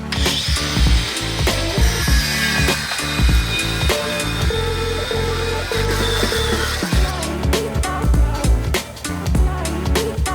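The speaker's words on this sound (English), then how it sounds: "just cut some slits in the candle, and then you can cut aluminum without it clogging up" A power saw cutting aluminum tubing for an intercooler, its blade lubricated with candle wax, a loud continuous whining grind with shifting pitch and sharp ticks throughout, close up in a workshop.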